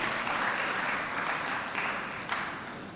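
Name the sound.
audience applause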